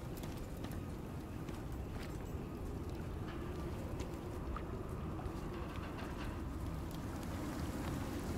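Rain falls in the video game Icarus as a steady, dense patter that carries on evenly throughout, with scattered faint taps on top.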